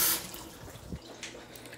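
Water running from a household tap in a kitchen, a soft steady rush with a few faint splashes and knocks, quiet and close, before it is shut off.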